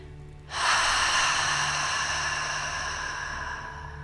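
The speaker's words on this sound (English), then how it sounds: "Take a clearing breath with me to release anything we've dug up so far. Inhaling through the nose and exhaling out the mouth." A long, steady clearing breath exhaled out through the mouth during a gentle yoga class, beginning abruptly after a quiet moment and sustained as a close, airy whoosh that slowly fades.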